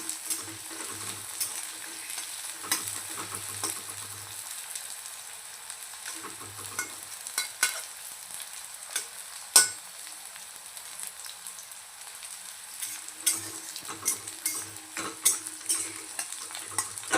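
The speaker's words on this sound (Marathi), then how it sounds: "छान असं आपण ऑइलमध्ये फ्राय करून घेतो" Salt-marinated bitter gourd pieces fry in oil with a continuous close crackle and scattered sharp pops, like light rain on a surface, occasionally stirred.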